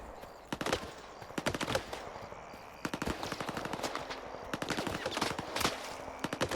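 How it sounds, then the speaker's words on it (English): A firefight in the video game Stalker 2: rapid bursts of automatic gunfire crackle in clustered volleys with short gaps, some shots sharper and nearer, over a low background ambience, with no talking. "I'm just going to go over here and see what's going on, which means a gunfight."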